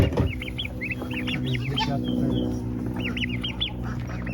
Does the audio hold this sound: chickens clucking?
yes